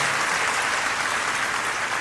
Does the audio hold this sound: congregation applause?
yes